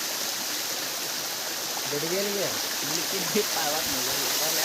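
Bairappa waterfall pours heavily, making a loud, steady, broadband roar of rushing water close by, while someone talks over it partway through.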